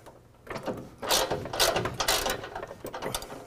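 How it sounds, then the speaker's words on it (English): Bumper mounting hardware being tightened on a 2020 Ram 2500 during a Steelcraft Elevation front bumper install, with quick ratcheting clicks and metallic mechanism rattles starting after a brief quiet, close and busy throughout. "and then go ahead and tighten down all the hardware."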